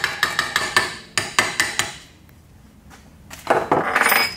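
Hammer taps on a vintage metal headlight vacuum actuator being reconditioned: a quick run of sharp metallic clinks, a pause, then a denser burst of ringing strikes near the end, close and fairly loud.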